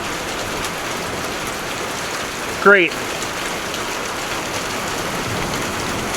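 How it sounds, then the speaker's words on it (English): Hail falling during a tornado storm at a car lot, a dense steady hiss of pelting ice, with a brief spoken word partway through. "Yep, there's the hail."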